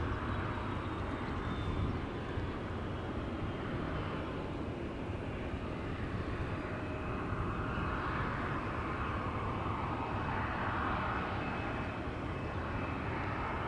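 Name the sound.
Ryanair Boeing 737-800 taxiing to runway at Schiphol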